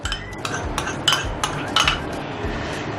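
A metal spoon scrapes and clinks against a bowl while scooping yogurt for a shawarma recipe, several distinct taps and scrapes in quick, irregular succession, close and clear with no talk.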